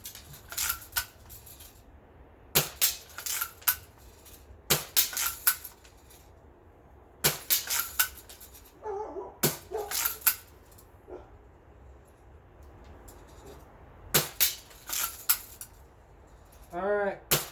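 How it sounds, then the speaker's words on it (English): A classic Crosman lever-action BB gun fires repeatedly into layered wood, giving sharp cracking impacts at irregular intervals of roughly two seconds, fairly close, with quiet gaps and faint handling between shots. "I'm gonna keep shooting."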